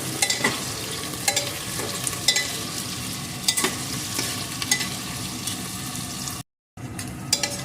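Chopped onions fry and sizzle in a pressure cooker for chicken curry. A spatula scrapes and stirs in regular strokes over a steady hiss, and the sound cuts out briefly near the end.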